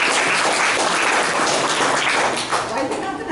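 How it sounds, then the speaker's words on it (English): An audience at a speaking club meeting claps together in a dense, loud, sustained round of applause. "a good round of applause"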